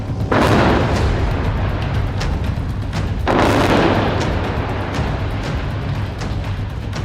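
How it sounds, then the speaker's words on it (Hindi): Heavy booming blasts, one after another, with a big rumbling burst early and another around the middle, over continuous dull background rumble, in a war zone during the Israel–Gaza conflict. "यहाँ पर आसपास बहुत तेज एक के बाद एक कई धमाकों की आवाज़ आई है"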